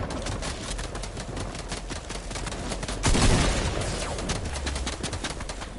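Gunfire in a Maula Jutt shooting video game, a steady stream of rapid shots with a louder burst partway through, heard alone without talk.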